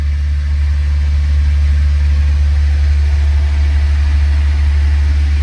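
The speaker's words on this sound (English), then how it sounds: "we're going to go shut off the pony motor and then we're going to start the big engine" A small pony motor, the starting engine for a larger engine, idles loud and steady, a deep continuous low hum with no pauses or talk.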